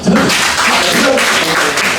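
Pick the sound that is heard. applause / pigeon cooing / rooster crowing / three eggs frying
applause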